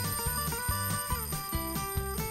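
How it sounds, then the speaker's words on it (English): An animated alarm clock bell rings as a little hammer rapidly strikes its cup, a bright metallic jangle with quick repeated hits layered in a continuous ringing, fairly quiet and without speech. "that's how an alarm clock rings"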